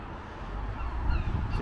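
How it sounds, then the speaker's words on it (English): Gulls cry in a brief burst by Liverpool Parish Church, Our Lady and St Nicholas, on the waterfront. A couple of harsh calls rise over a windy, rumbling outdoor background. "The seagulls are going mad."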